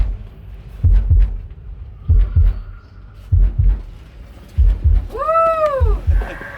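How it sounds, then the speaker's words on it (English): Deep, loud heartbeat thumps pound in paired beats through a dark haunted attraction tunnel, repeating steadily about once a second, with a brief rising-and-falling electronic whine near the end. "This is our heartbeat tunnel."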